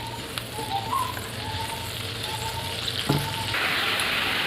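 Sour-spicy mango curry with fried mango pieces and lentil-paste fritters simmers in a pan, giving a steady, soft sizzling bubble that holds evenly throughout with no voices.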